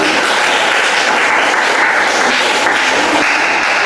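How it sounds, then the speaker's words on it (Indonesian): A classroom of students claps after a group presentation, a loud, continuous, dense patter of applause throughout. "Tepuk tangan lagi."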